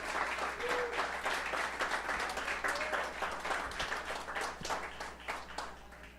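A church congregation at a prophetic worship service gives a long, steady round of applause, rather distant and soft, fading slightly toward the end.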